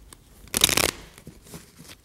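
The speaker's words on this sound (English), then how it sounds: "Ordinary deck of cards." An ordinary deck of playing cards riffled once in a quick, crisp burst of about half a second, close and fairly loud, followed by faint handling noises.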